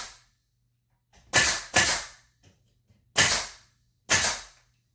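A pneumatic nail gun firing into a trim board on a wall: four sharp, loud, close shots, two in quick succession and then two more spaced apart, with quiet between them.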